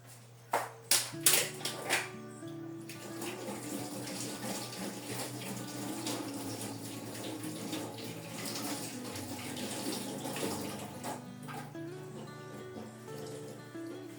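Tap water runs steadily into a kitchen sink while hands are rinsed during bread-dough making. A few clattering knocks come at the start, then the continuous splashing stream goes on with no talk.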